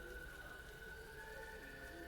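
Steady rain falling in a game scene from Hundred Line Last Defense Academy, a continuous soft hiss with a faint tonal hum underneath, even and unbroken throughout.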